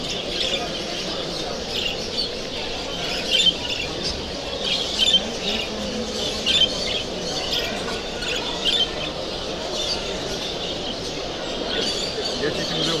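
Canary and budgie crossbreed birds squawk and chirp in an indoor aviary, short bright calls repeating irregularly over a steady background hum, with someone talking in Turkish.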